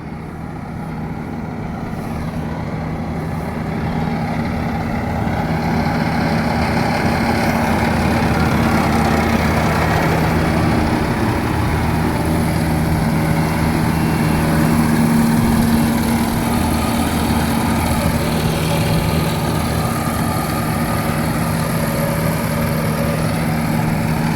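A Japanese paddy rice milling machine running steadily, a loud continuous mechanical drone with a low hum and rattling texture that swells in over the first few seconds and then holds even throughout, no talking.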